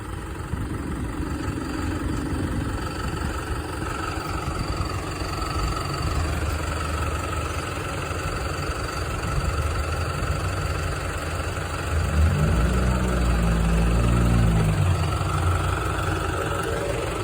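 A New Holland TD5.110 tractor engine idles at a customer's farm, a steady low diesel rumble that swells slightly louder toward the end.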